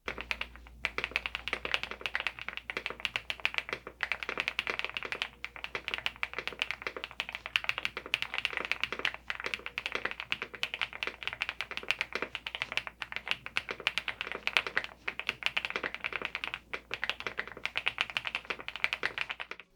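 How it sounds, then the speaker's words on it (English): Steady, fast typing on a mechanical keyboard with pre-lubed, hot-swappable Zebra switches, giving a click at the top of each press and a deep, creamy thock at bottom-out, in a close, continuous patter of keystrokes for about twenty seconds with no talking. "when they bottom out, you get this deep, creamy sound to them"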